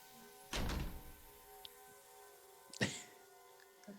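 A door in a tabletop role-play session opens with two dull thunks about two seconds apart, the first heavier, heard over a faint steady hum of background music.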